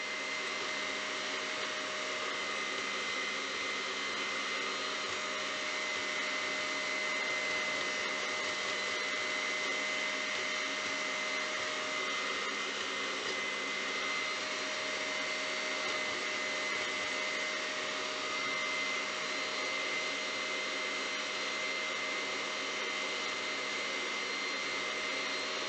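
An electric mixer beating cookie dough for chocolate chip cookies, a steady continuous whirring drone with a constant motor hum, no talking.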